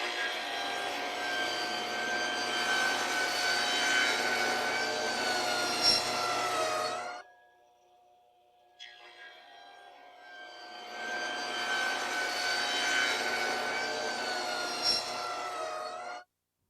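A Craftsman table saw resaws a board through its thickness, two loud sustained cutting passes with a high whining tone, separated by a brief quiet gap where the motor idles, all close and without talk.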